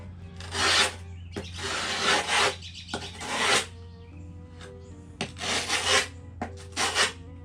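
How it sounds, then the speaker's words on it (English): A metal tool grinds along the edges of grip tape on a new Fortune skateboard, giving repeated close, loud rasping scrapes in bursts with short pauses, and no talking. "a piece of metal that you can grind the sides with"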